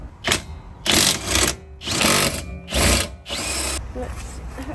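A power tool undoes the old hub bolts on an R32 Skyline in five loud, close bursts, each whirring for about half a second to a second with brief pauses between them.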